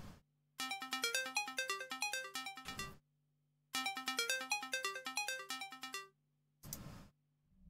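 A repeating electronic phone ringtone in a horror game, two long bursts of rapid melodic trilling separated by a pause, followed by a short noisy thump, all over a steady low hum.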